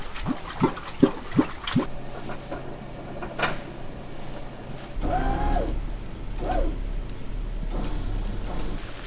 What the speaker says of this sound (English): Thankfully, James came to the rescue with his 1989 Warn winch.